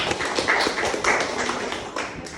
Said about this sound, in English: Give applause, please.